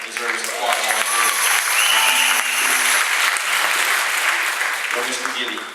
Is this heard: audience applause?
yes